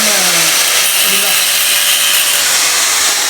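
A handheld power tool cuts through metal wire during a restoration job, throwing sparks: a loud, close, continuous grinding screech with shifting whine, filling the whole stretch.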